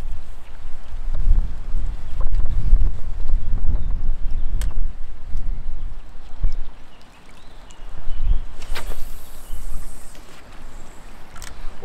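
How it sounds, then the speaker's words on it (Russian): Very strong wind buffets the microphone during pike fishing on open water, a loud continuous rumble with gusty surges and a brief lull, with no talking. "Очень сильный ветер."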